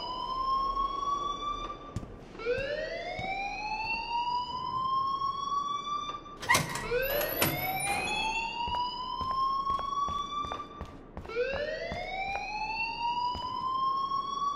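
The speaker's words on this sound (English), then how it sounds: "Leave Miss Caulfield alone and please turn off that alarm since that's your" A wailing alarm siren rings in the video game Life Is Strange, rising in repeated sweeping cycles about every four seconds, loud and continuous, with a brief burst of sharper tones in the middle.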